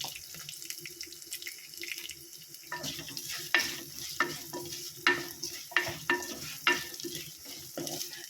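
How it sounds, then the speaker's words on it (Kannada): Cumin and black pepper fry in a pan with garlic for an amaranth-greens sambar, giving a steady soft sizzle with scraping stir strokes and clinks at irregular intervals, close by and moderately quiet, with no talk. "ಇದು ಜೀರಿಗೆ ಮೆಣಸು ಕರಿದಾಗೋಗುತ್ತೆ"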